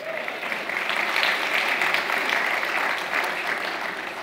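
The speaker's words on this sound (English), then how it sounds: "Give Jesus a round of applause." A church congregation breaks into sustained applause during a Sunday service, a broad, even wash of many hands clapping throughout, fairly soft and unbroken by speech.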